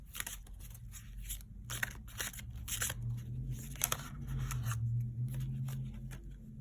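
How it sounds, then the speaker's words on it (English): Tarot cards are drawn one after another from a deck, making close, crisp papery swipes and flicks in an irregular rhythm over a soft low hum, with no voices. "I'm gonna pull 5 cards for that as well."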